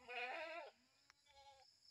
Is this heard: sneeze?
no